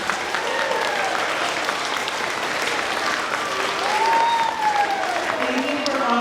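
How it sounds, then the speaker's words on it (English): A school assembly audience breaks into sustained applause honoring a departing coach, dense clapping filling the room loudly throughout, with a whistle-like tone and some voices rising faintly over the crowd. "Can we give him a big round of applause, please?"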